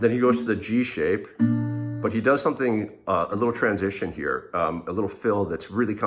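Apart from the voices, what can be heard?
No everyday noise stands out behind the speech.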